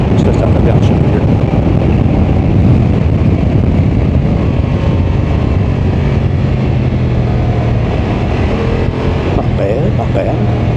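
A Honda Transalp motorcycle engine revs and drops through a downshift while riding, a close, loud engine drone buffeted by heavy wind noise, with a voice talking over it.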